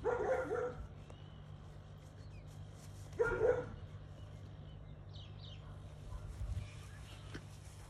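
A dog in the Australian outback gives two short bursts of barking several seconds apart, moderately near, over a low steady hum with faint bird calls.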